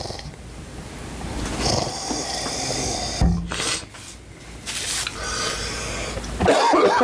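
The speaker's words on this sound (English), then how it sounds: "I have this like weird cough that comes once an hour" A person coughs in a few harsh bursts, close to the microphone, with some throat noise between them and no talk.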